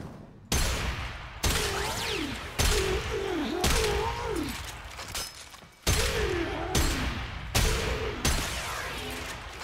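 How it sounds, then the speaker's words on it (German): The Kuva Hek shotgun in the Warframe video game fires a string of loud, sharp four-barrel blasts, about eight shots at irregular spacing, each with a booming tail, and music plays beneath them. "Es sind einfach 4 Schüsse, die gleichzeitig losgefeuert werden."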